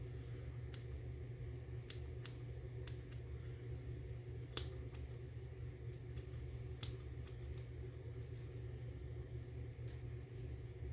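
Scissors trim the material of a merkin-style crab fly during fly tying, giving sparse, sharp, quiet snips at irregular intervals over a steady low hum, close by and with no speech.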